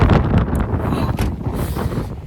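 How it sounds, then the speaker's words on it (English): Strong wind blowing outdoors near the ocean at sunset, buffeting the microphone in a loud, rumbling roar that gusts unevenly throughout. "it's going to be so windy for a second"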